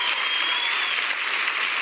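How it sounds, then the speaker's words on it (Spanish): Studio audience applause on a Spanish late-night talk show fills the moment with dense, even clapping that holds steady and loud throughout, with no voices over it. "Un aplauso para él, por favor."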